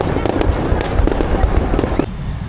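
Fireworks burst over Saigon during the Reunification Day celebrations, a dense, loud run of rapid cracks and booms that fires continuously. The blasts thin out near the end, and crowd noise fills the background.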